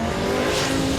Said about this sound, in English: Vallejos, the automatic transmission, harnessing all the power that the big turbocharged V10 can make, really picks up at the top end